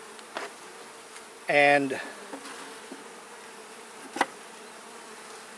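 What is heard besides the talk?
honeybees buzzing during beehive inspection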